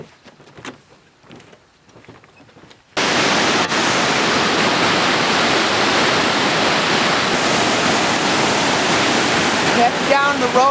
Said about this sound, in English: you guys can probably barely even hear me just how loud the rapids are